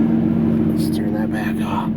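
A 2017 BMW M2 runs with a steady low engine hum just after a cold start, while a voice speaks over it.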